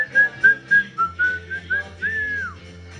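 A girl whistles a short melody of about nine clear, bright notes on a hillside, close and fairly loud, ending on a downward slide, with no talk over it.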